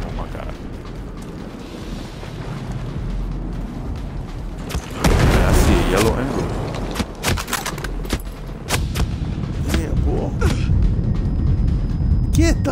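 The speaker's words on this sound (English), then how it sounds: "He spreads out the mortar fire." Mortar fire explodes in the video game Ghost Recon Breakpoint: a heavy broadband burst of blasts hits around the midpoint, followed by scattered sharp impacts and rumbling gunfire, with voices talking over the combat.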